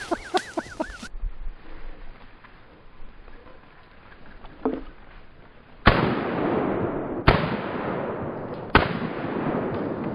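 Three loud shotgun blasts fired at a ruffed grouse in woods, each a sharp crack trailing into a rumbling echo, spaced about a second and a half apart after a quiet stretch of rustling.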